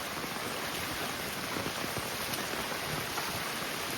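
Steady rain falls outdoors near a stream or creek where crab traps are set, a dense, even wash of hiss and patter that runs without a break.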